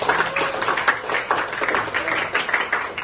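Students in a classroom clap together in a brisk, steady burst of applause lasting a few seconds, close and fairly loud.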